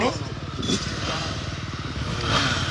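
A two-stroke motocross motorcycle engine at a live stunt show gives a steady buzzing, rattling drone under nearby talk, with slight revving toward the end.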